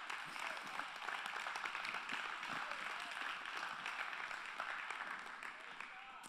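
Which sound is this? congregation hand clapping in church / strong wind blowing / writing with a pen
congregation hand clapping in church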